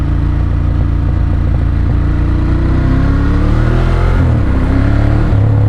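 A 2016 Ducati Monster 1200 S engine rumbling loudly up close while riding, its deep throb rising in pitch under acceleration, dropping briefly, then building again.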